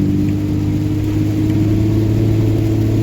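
A 2G Cummins diesel truck engine under throttle in fourth gear with the converter locked, producing a loud, steady low drone that holds without pause, heard from inside the cab.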